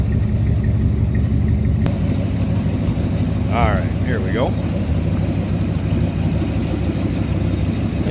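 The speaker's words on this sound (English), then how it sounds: "Nice little rumble out of that 390." A 1961 Ford Galaxie Club Victoria Starliner's 390 V8 idles with a steady low rumble, close and continuous, while someone talks briefly over it.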